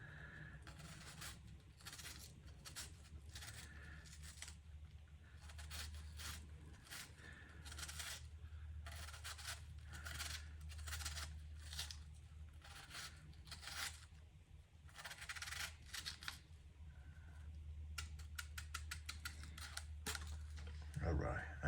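Red onion being cut finely with a knife on a board, a steady run of quick, soft chops and scrapes repeating through the stretch under a low background hum, fairly close.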